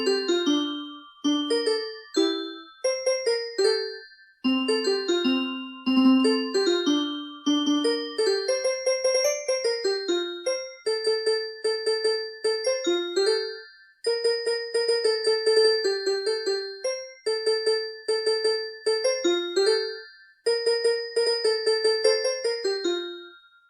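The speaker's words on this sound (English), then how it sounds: "There is even a Christmas song, Jingle Bells, that plays if you press a button on the side of the tree." A toy Christmas tree plays Jingle Bells after a button press: bright, electronic chime-like notes in a bouncy, repeating melody, loud and clear with short pauses between phrases.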